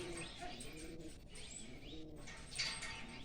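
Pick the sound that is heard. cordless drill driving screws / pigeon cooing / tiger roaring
pigeon cooing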